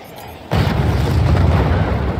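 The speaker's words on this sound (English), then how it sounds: "they launched a really big cannon at us" A big cannon shot explodes in a fort-building video game, a sudden loud boom followed by a sustained rumbling, crackling roar of debris.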